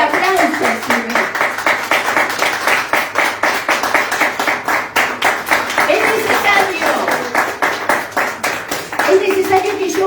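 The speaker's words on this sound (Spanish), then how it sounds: "Dale un fuerte aplauso, Señor" A church congregation claps rhythmically during a sermon, strong regular beats close and continuous for ten seconds, with voices mixed in underneath.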